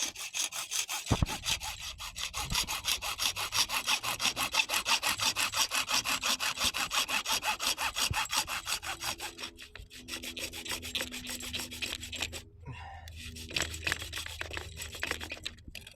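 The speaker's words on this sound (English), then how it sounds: "Alright, so I'm just going to cut the other piece." A hand saw cuts through irrigation PVC pipe in quick, even back-and-forth rasping strokes that are clear and close, then slows into a few scattered scrapes and knocks.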